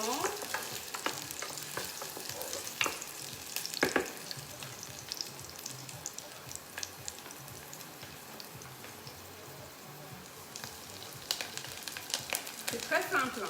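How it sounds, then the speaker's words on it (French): Onions sizzling gently in a pan as they soften and start to brown, a steady close frying crackle with occasional stirring scrapes and no voice over it. "donc vous faites revenir légèrement les oignons"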